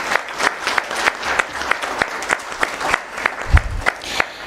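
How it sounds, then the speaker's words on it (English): A conference audience applauding at an opening ceremony, a fairly close, uneven patter of clapping with distinct sharp hand claps standing out throughout. "A round of applause, please."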